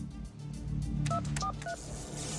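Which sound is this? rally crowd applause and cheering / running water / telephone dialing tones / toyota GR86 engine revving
telephone dialing tones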